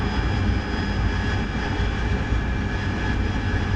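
A jet aircraft engine roars loud and steady in DCS World during a close air support mission, a continuous dense drone with no breaks and no talk.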